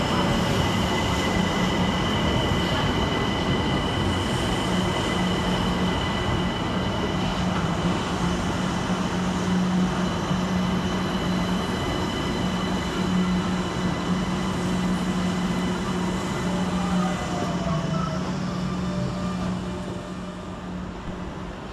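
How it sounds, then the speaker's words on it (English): London Overground Class 378 electric train 378224 pulling into Surrey Quays station, a steady loud rumble of wheels and traction running throughout with faint squeals, gradually easing near the end. "let's have some fun at Surrey Quays with the arrival of 378224, working the 1406 London Overground service of Highbury and Islington to Clapham Junction"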